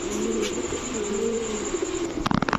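A pigeon at a street hawker's stall gives a low, steady rolling coo for about two seconds, close and clear, then a few sharp clicks and knocks at the end.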